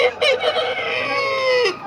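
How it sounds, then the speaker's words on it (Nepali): A rooster on a poultry farm crows once, loud and close, a long drawn-out call that rises and then trails off. "गाउँमा बासे जस्तो गर्छन् नि कुखुरा त"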